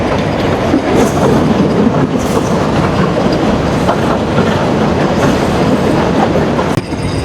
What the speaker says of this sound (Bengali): বিমানবন্দর ছেড়ে বনলতা এক্সপ্রেস ট্রেনটি একবারই নন স্টপ হয়ে গেল, সোজা চলে যাবে রাজশাহীতে।